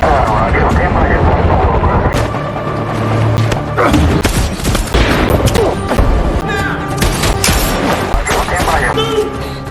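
Gunfire in a film shootout echoes through a building's corridors, with bursts of shots and heavy booms mixed with an aircraft roar and thuds, all loud and dense, under intermittent shouted voices.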